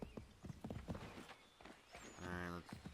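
Horse hooves clip-clop in Assassin's Creed 3, a run of quick steady hoofbeats followed by a horse's whinny, with someone talking in the background.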